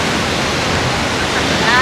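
A natural roadside waterfall in Costa Rica pours in a dense, steady broadband rush, loud and close, with no pauses over the short stretch.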